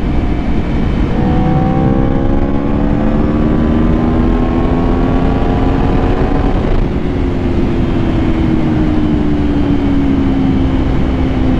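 A 2018 Aprilia RSV4RR superbike rides along southeast Georgia back roads, its engine droning loudly and steadily with rising and falling pitch as it shifts gears, blended with heavy wind rush.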